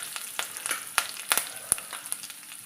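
Curry leaves spluttering in hot oil in a pan with browned seasoning, giving sharp scattered pops and crackles over a steady faint sizzle, close and fairly quiet, with no voices.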